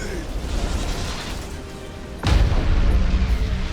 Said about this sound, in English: Drop a Nova Cannon on these unshielded cruisers.